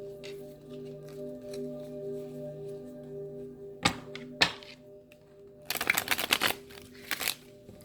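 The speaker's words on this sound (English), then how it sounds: "I'm getting to go ahead and do a full-fledged shuffle and flush here." A quick riffle shuffle of playing cards rattles for about a second against a quiet, humming room, after a couple of soft taps.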